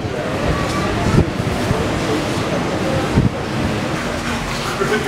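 Wind blowing outdoors, a steady broad rush with gusty swells and buffeting against the microphone, with brief thumps and some talk mixed in.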